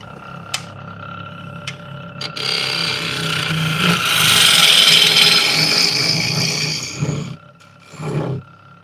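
A wood lathe spins a large walnut and butternut blank with a loud, rising roar that peaks midway and then eases off, followed by a shorter surge near the end.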